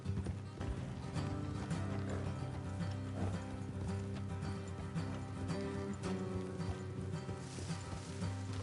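Horses galloping in the video game Red Dead Redemption 2, a dense, continuous rumble of hooves mixed with loud game sound and music, carrying steadily throughout without talking.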